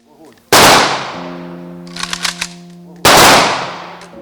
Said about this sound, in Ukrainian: Там на честь героя за традицією пролунали постріли військового салюту